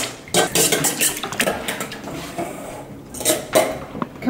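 Baklava dough ingredients being mixed in a bowl in a home kitchen, with repeated clinks and scrapes of a utensil against the dish in an irregular rhythm, close and fairly loud, with no talking.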